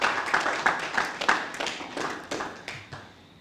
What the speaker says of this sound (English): give themselves a hearty applause for their stick-to-itiveness